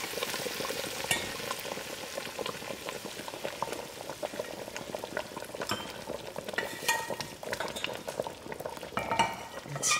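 Fried onions are stirred into dhal pitta in a pot, giving a steady bubbling simmer with wet sizzling and intermittent scraping and clinks of a spoon, close and continuous.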